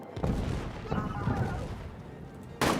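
Artillery barrage in a role-playing video game: deep booming blasts with rumbling low-end, one near the start, a softer one mid-way and a sharp loud hit at the end, with someone talking throughout.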